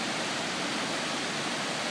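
Jackson Falls, swollen after Hurricane Sandy, roars steadily from its base with a dense, unbroken wash of falling water, loud and close with no let-up across the whole stretch.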